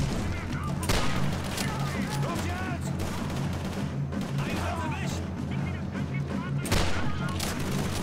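Shotgun blasts and other gunfire in the Call of Duty 3 campaign, inside a house during a hostage mission: sharp bursts near the start and near the end over a steady din of battle, with voices talking throughout.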